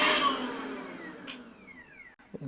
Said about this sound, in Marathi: अरे मिक्सर बंद कर ना झोपू दे जरा